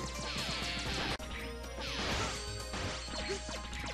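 Rapid Mega Man X6 quick-shot beam blasts and crashing impacts fire in quick succession over a dense electronic background, loud and busy throughout.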